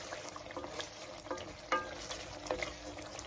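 A spoon stirs Ghanaian fante fante fisherman's stew in a pot, soft scraping strokes with light simmering liquid underneath, brief clinks against the pot rising over a steady low background.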